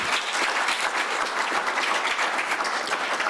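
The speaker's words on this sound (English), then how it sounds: "let us give Professor Sebo once again a round of applause" A conference audience applauds Professor Sebo: continuous crowd clapping, even and sustained throughout, moderately loud and heard alone without talk.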